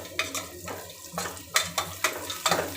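Cashews fry in hot oil in a pan for raw jackfruit biryani, giving a soft sizzle broken by irregular stirring scrapes and light clinks of a spoon against the pan, close and moderate; no voices.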